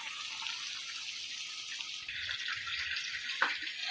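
Cooked erişte noodles being drained, with a steady hiss of running water pouring through a colander into a sink, continuous and close, with a brief clink near the end.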